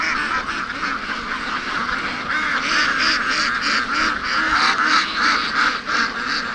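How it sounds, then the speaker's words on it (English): Free-range ducks quacking and honking continuously, a close, dense chorus of overlapping calls from the flock on a rainy morning, with no clear talk. "Come on, duckies, let's go."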